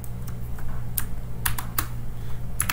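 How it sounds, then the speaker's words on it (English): Commands are typed on a computer keyboard: scattered, sharp key clicks come in small irregular clusters over a steady low hum, close and moderately loud, with no talk. "So I typed Z git."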